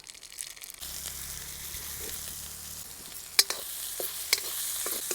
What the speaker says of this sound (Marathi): आपलं तेल गरम झालं लसूण टाकून घेऊ आपण मध्ये आपण मोहरी टाकू